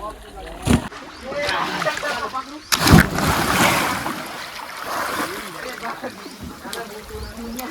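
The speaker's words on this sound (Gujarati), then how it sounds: "ગાઈઝ હવે ડાયરેક્ટ કૂદકો મારો છે" A sharp splash as someone plunges into a swimming pool, followed by sloshing and rippling, with people talking and shouting around.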